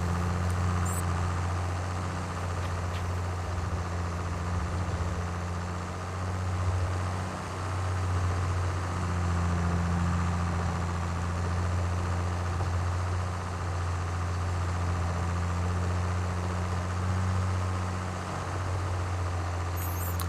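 A tractor engine idles steadily in Farming Simulator 22 on a field at Elk Mountain, Wyoming, its low, even drone running throughout with no talk over it.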